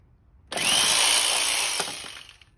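A jigsaw cuts through wood in one loud, close burst of about a second and a half, then winds down and stops.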